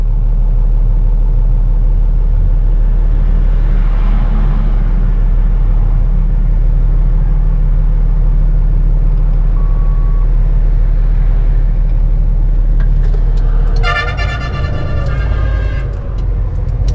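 A car in a city avenue pulls away in second gear, a steady loud engine rumble and road noise that holds throughout, with a brief rattling change near the end.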